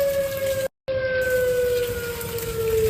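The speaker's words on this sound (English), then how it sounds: "there's the real siren set. That means a tornado is on the ground" A tornado warning siren wails during a storm with lightning, thunder and hail, a steady sustained tone that slowly glides in pitch, heard from a distance over rain, with a brief dropout partway through.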